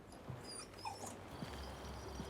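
A small Yorkshire terrier whimpers in a few short, thin whines at close range over a steady low background hum, with faint higher yips between them and no speech.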